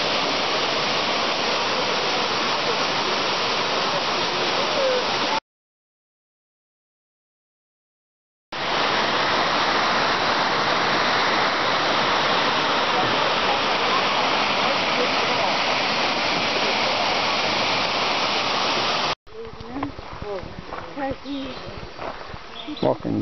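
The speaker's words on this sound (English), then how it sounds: "mountain waterfall." Martin Creek Falls, a mountain waterfall on the Bartram Trail in Georgia, roars as a dense, steady rush of falling water, loud and close, cutting out briefly midway before softer outdoor ambience with faint chirps at the end.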